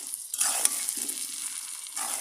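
Chili powder is stirred into an olive pickle cooking in a pan, a short close burst of sizzling with soft scraping from a spoon, with no one speaking.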